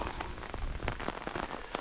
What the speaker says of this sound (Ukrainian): Дощ паде